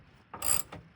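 A ratchet wrench with a 9/16 socket turns out an old suspension bolt, giving one short mechanical clicking burst, close and fairly quiet.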